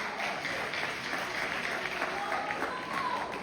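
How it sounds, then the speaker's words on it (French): An audience applauding after a speech at a Haitian political gathering, a steady distant wash of clapping that holds evenly throughout, soft and diffuse with no voices standing out. "On nous applaudit l'intervention."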